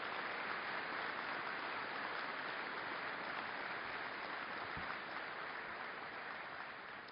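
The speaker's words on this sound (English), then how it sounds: "how about a round of applause for our families that support our firefighters" Steady, dense applause from a firefighter conference audience honoring the families who support firefighters, continuous and even across the whole stretch with a brief low thump midway.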